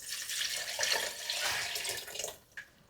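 Stock poured into a Dutch oven for Moroccan lentil soup, a steady gushing liquid pour that runs for about two seconds and then tapers off into a few drips, close and alone.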